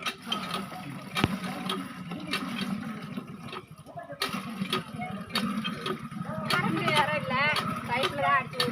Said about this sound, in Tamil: இந்தா நான் போய் தண்ணி அடிச்சு ஊற்றுறேன்